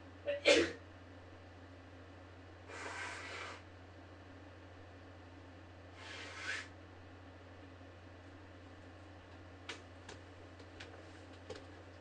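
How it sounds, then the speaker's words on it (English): A single sharp sneeze bursts out near the start, followed by a few breathy rustles and light ticking clicks in an otherwise quiet room. "But I think sneezing, there's absolutely no way to deal with"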